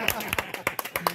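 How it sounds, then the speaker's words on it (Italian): Scattered hand claps from a small outdoor motorcycle club gathering, irregular and close, mixed with people talking over them. "Un applauso!"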